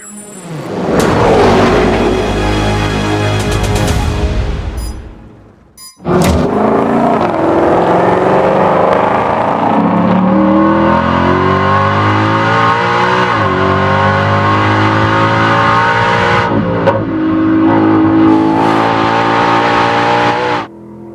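A 2024 Ford Mustang GTD race car at the Nürburgring, loud and close: a brief roar cuts off near five seconds, then a sustained high-revving engine scream with gear changes runs on, with no talk.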